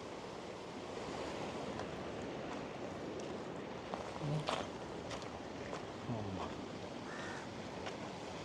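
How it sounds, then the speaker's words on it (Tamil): Fast-flowing floodwater rushes past a bridge, producing a continuous, dense outdoor roar with wind buffeting the microphone and a few faint scattered knocks underneath. "இதால் எப்படி தண்ணி வேகமாக பாய்ஞ்சு கொண்டு இருக்குதுன்னு பாருங்கள் இப்போயும் பாய்ஞ்சு கொண்டு தான் இருக்குது வேகமாக"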